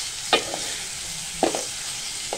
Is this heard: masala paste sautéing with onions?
yes